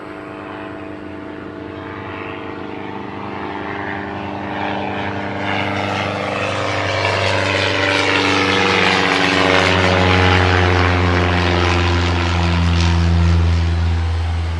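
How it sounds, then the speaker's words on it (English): Propeller airplanes flying overhead on a practice day, a steady droning engine roar that swells louder over the second half as they pass close, with no voices. "Whenever there's planes overhead and they're doing their practice days"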